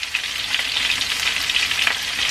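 Head-on shrimp deep-frying in hot oil for Mexican-style crispy camarón frito, giving a steady, dense crackle and sizzle that stays loud and even throughout, with no talking.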